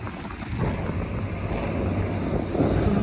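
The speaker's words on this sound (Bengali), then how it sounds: "সুন্দর হাওয়া দিচ্ছে, ঠান্ডা ঠান্ডা।" Wind gusts over the Teesta bridge, buffeting the microphone in a low, continuous rumble with a broad hiss on top, steady and close and with no voices.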